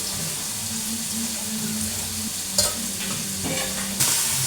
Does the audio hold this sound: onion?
yes